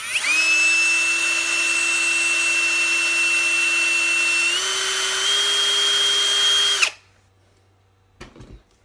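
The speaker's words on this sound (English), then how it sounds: "We need a hole right here. So I'm going to drill one." A power drill bores a hole in a Zoom tube switch adapter, one steady high whine lasting about seven seconds, rising slightly in pitch midway, then stopping abruptly, followed by brief faint handling clicks.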